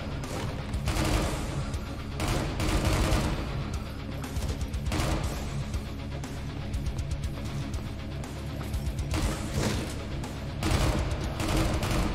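Gunfire in a Doom-style roguelike shooter game, heard as dense, continuous bursts of shots and booms with loud, sustained low-end impacts running steadily through the whole stretch.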